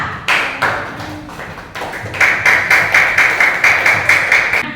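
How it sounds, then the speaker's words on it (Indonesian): Students in a classroom clap for a group, starting with scattered uneven claps that settle into a steady, loud rhythmic beat of sharp individual claps close by. "tepuk tangan dulu untuk kelompok kelapa"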